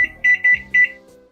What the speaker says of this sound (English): Now I just have to set the timer.